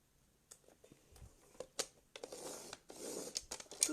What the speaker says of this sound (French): vous prenez le petit plioir ou le petit outil pour marquer les plis